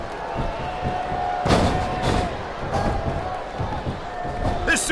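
Capacity arena crowd in the wrestling video game WWE Smackdown vs Raw 2007 roaring steadily, with sharp slams and thuds cutting through and commentators talking over the noise.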